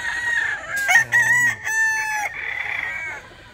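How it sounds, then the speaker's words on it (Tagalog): A rooster crows loudly and close, one long strained cock-a-doodle-doo with a raspy rising and falling call, no voices. "papakita namin sa inyo yung manok namin"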